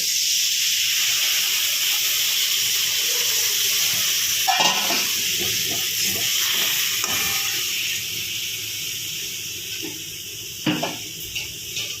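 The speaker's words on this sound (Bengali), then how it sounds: "এখন দিয়ে দেবো নারকেলের দুধ" Spiced curry simmering in a pan for a vegetarian Bengali potol dish, with coconut milk poured in, gives a steady steamy hiss and sizzle with a few soft clinks of utensils against the pan, close and continuous with no talk.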